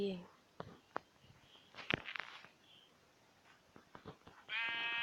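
Sheep bleating in the video game Minecraft Pocket Edition 0.15.1, heard in a survival world as a few short bleats amid game sounds and clicks, with a louder sustained tone near the end.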